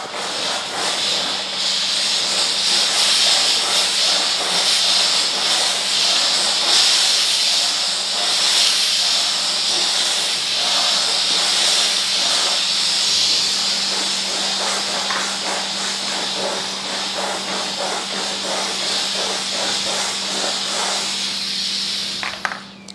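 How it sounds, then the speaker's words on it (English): Bissell Power Steamer Heavy Duty pushing out a steady, loud hiss of steam while cleaning grout, continuous for the whole stretch with a low pump hum beneath and a brief clunk at the end. "It's going to take a minute for the steam to come out."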